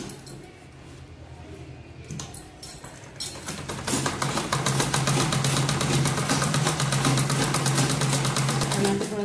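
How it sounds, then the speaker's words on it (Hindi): A sewing machine stitching the belt of a long skirt starts after a few seconds of quieter handling and runs in a steady, loud, rapid needle chatter, with some talk at the start. "तो इस तरीके से अब आपको इसके ऊपर रख के सिलाई चला लेनी है।"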